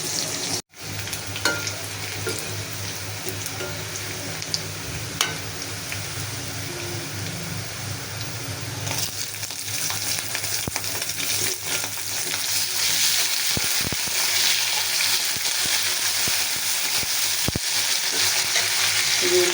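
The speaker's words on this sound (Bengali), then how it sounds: "কচু শাক অনেক নাড়াচাড়া করতে হবে, এই কড়াইতে নাড়াচাড়া করে রান্না করতে সুবিধা" Chopped taro leaves cook in an old wok, a constant close sizzle that grows louder partway through, broken by intermittent scraping and knocks of stirring.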